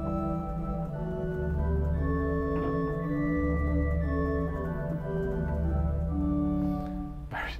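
An 8-foot and a 2-foot flute stop sound together on a large five-manual Austin pipe organ, holding full sustained chords with a low foundation and bright upper pipes.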